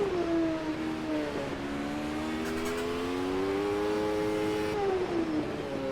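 A classic Formula 1 car races at Brands Hatch in the wet in the Automobilista 2 game. Its high engine whine climbs to the red line and holds there steady, then drops away briefly and climbs again.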